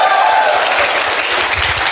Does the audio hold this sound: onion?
no